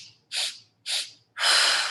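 Three sharp breaths during a breathing exercise, two short hissing pulls and then a longer, louder rush of air, close to the mic and with no talking.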